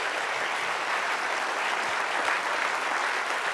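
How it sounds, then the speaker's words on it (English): A lecture audience gives steady applause, a continuous even patter of many hands at moderate loudness with no voices over it. "I just want to give a round of applause to Jeff Call."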